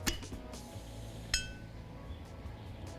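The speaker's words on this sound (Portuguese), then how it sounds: "dentro do nosso liquidificador, eu vou colocar 4 colheres de azeite." Spoons of olive oil being added to a glass blender jar, producing faint, sparse glassy clinks, two sharp taps followed by softer ones, quiet and close.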